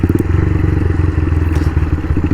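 A small 175cc chopper motorcycle is ridden on an afternoon outing, its engine making a loud, steady low thumping putter with a rapid regular pulse throughout, close up and with no talking.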